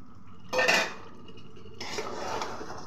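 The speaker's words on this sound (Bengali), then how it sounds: "আলুগুলো দিয়ে আরও কিছুক্ষণ কষিয়ে নেব" Potatoes tipped into a pan of meat curry and stirred, a loud clatter of spoon against metal pan followed by a longer stretch of scraping and stirring, close up with no talk.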